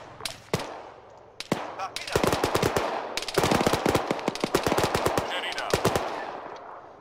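Bursts of .50 cal machine gun fire in Arma 3, loud rapid rattling volleys with short gaps and a few isolated single shots, dense and continuous through the middle.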